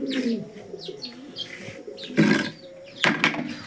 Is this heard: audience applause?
no